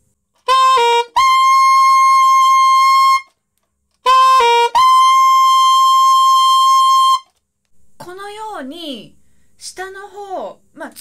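Saxophone plays a short run that leaps into a long, high altissimo note, then repeats the phrase. A voice speaks briefly afterward.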